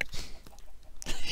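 Short bursts of chicken clucking from a Minecraft Prop Hunt game, a few quick squawky calls with brief gaps, fairly close and moderately loud.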